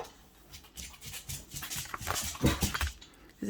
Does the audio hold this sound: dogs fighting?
yes